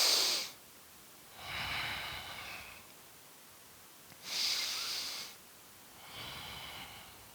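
Slow, deep yoga breathing held in triangle pose: four long, close breaths alternating audible inhales and exhales, each lasting about a second with quiet gaps between, no talking.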